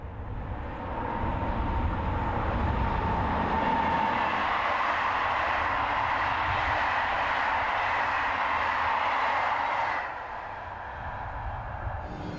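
French BB26000 electric locomotive heads a Caen to Paris train past La Porterie in Normandy, a loud rumbling passage of rolling wheels and wagons that fades sharply near the end.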